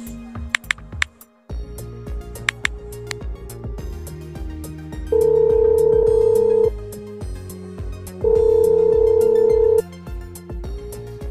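A telephone dials with a few sharp keypad clicks, then a steady tone plays, followed by two long, loud ringback rings separated by a pause, set against a soft musical background.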